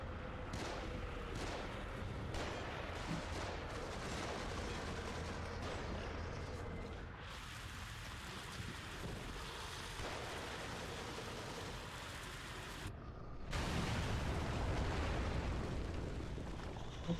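Heavy Magnum revolver blasts in the horror game The Evil Within, a few booming shots with rumbling tails over a noisy game background, growing louder near the end.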